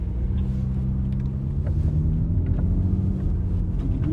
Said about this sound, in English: the car's a little bit louder. It just gave you a little bit more exhaust